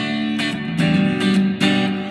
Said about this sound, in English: Too much, just way too much reverb.